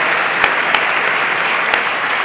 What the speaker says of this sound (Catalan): Jo crec que els hem de fer un fort aplaudiment a totes les persones que han passat per...